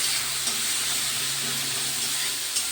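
Chopped tomatoes fry in hot oil with salt, giving a continuous close sizzle and hiss with faint stirring scrapes.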